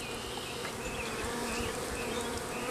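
A box of honeybees being hived buzzes continuously, a dense, even drone of many wings close by with scattered louder passes of individual bees, no talking.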